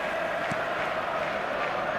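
Stadium crowd applause in the eFootball video game, a steady, even wash of clapping and crowd noise that neither rises nor fades over a brief stretch.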